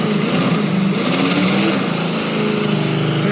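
An ice cream truck converted into a burnout truck strains through a skid run, its engine roaring loud and ragged with a sputtering, faltering rasp as it fails.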